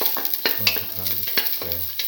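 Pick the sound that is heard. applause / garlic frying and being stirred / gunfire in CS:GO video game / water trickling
garlic frying and being stirred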